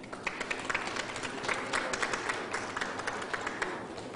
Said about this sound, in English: Let's give Steve Dubnick and the team here at Strong a round of applause.